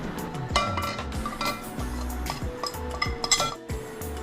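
Prawns tossed with chilli, coriander, pepper and turmeric powders plus chopped tomato and green chilli in a bowl for prawn biriyani: a spoon repeatedly scrapes and clinks against the dish in an uneven, close stirring rhythm.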